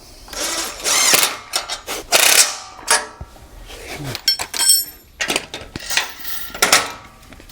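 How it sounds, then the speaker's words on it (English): Bolts on tent trailer brackets are tightened with a 17mm socket and wrench. Close, quick ratchet clicks and metallic clinks come in several short bursts, with loud rustling between them and no talk. "then we'll go and tighten them up with a 17mm socket and wrench"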